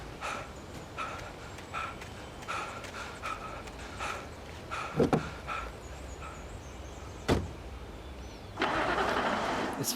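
A car engine starts in Alan Wake Remastered, the ignition rising into a louder, rough broadband rumble near the end, after a stretch of quiet, scattered tonal blips and soft thuds.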